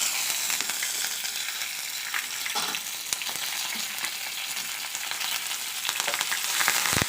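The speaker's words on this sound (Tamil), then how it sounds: "இப்போ நம்ம எடுத்து வச்சுருக்கிற கருவேப்பிலையும் காஞ்ச மிளகா, பச்சை மிளகாயும் ஆட் பண்ணிக்கலாம்." Curry leaves with dried red and fresh green chillies frying in hot oil in a pan for mango rice, a steady close crackling sizzle with sharp pops, continuous and fairly loud throughout, with no talking.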